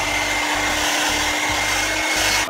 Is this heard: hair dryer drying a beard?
yes